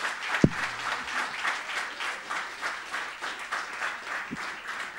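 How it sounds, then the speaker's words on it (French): An audience claps steadily at a live presentation, a dense, even wash of applause from a crowd that carries on for about five seconds with no talking over it. "On peut les applaudir encore une fois."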